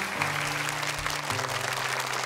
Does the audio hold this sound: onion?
no